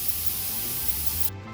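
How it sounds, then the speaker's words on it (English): An airbrush sprays Tamiya chrome silver paint over a black base on a Nerf Star Wars Mandalorian Amban Phase Pulse Rifle, giving a steady close hiss that cuts off abruptly near the end and leaves a faint hum. "I'm just going to airbrush the Tamiya chrome silver paint right over the black to give it that metallic band look."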